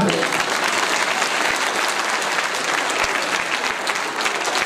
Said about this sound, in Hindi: अगर प्रस्तुति पसंद आई है तो एक बार फिर से तालियां।